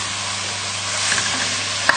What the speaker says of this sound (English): we're just going to go and add this to the pan with the vegetables